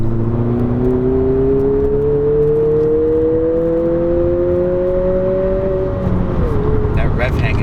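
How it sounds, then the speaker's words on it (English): A 2020 Honda Civic Si Coupe engine climbing in revs as a steady rising whine inside the cabin, loud and continuous, then falling away near the end, with road noise underneath. "That rev hang is fucking ridiculous, dude."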